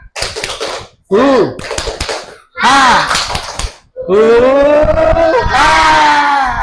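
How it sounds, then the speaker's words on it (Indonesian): A classroom group performs a rhythmic clapping chant in bursts, sharp slaps and taps sounding alongside voices that rise into sustained shouted calls, loud and close. "Kita lagi tepuk semangat."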